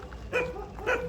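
Two sharp barks from a street dog in Pattaya, half a second apart, rise over a low background hum.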